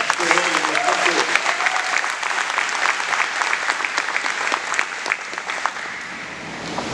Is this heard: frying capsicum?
no